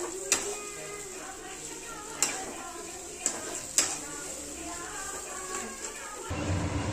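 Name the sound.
mixing aloo paratha potato filling in a pan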